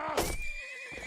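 A horse in a video game battle whinnies loudly and close by, a single sharp neigh that fades out in about a second with no speech.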